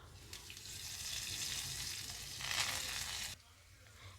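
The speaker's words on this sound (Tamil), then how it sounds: "கடுகு நல்லா பொரியுது." Mustard seeds, asafoetida and curry leaves sizzle and crackle in hot oil during a tempering for a ridge gourd peel chutney, a brief, close, busy hiss that swells slightly near the end before cutting off.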